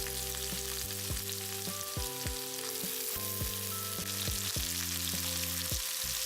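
Steady sizzling of chopped large onions frying in hot oil, with repeated scraping stirs at a regular pace throughout, close and fairly loud.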